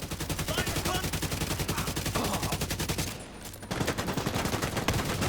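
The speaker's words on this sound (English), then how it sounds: "That's a flashbang." Heavy gunfire and a flashbang grenade blast go off in a video game shooting battle, dense rapid shots rattling continuously with a brief muffled dip before the firing resumes loudly.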